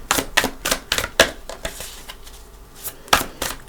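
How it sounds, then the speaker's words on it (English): Tarot cards shuffled by hand, a rapid series of crisp riffling snaps and slaps in uneven bursts, close and clear with a brief lull midway and no talking. "And I am going to shuffle for these."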